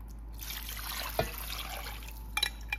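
Sauce thickened with cornstarch poured over a dish in a home kitchen, a steady soft liquid stream with a few drips near the end, close and moderately quiet, no talking.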